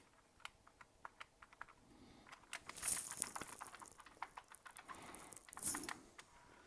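Keys pressed on a computer keyboard with a faulty spring, a quick irregular patter of clicks, close and fairly faint, with a couple of louder bursts of clattering keystrokes and no talking.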